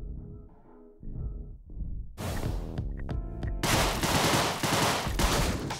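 Shotgun blasts and rapid gunfire in the video game Deadbolt, loud and dense, starting after a quieter musical passage and building into sustained bursts of shots.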